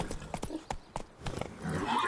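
A horse in a PS4 video game gallops with quick clip-clop hoofbeats and a short neigh, loud and close, while a voice speaks briefly over it.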